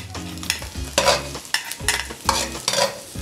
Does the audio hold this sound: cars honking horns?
no